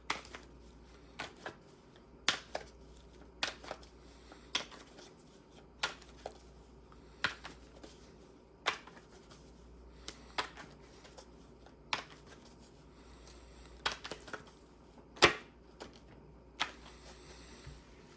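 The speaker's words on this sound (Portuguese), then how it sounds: "Vamos embaralhar um pouco mais para que a gente possa pegar as próximas cartas." A deck of playing cards being shuffled by hand, with repeated crisp riffles and snaps at irregular intervals, close and fairly quiet, no talking.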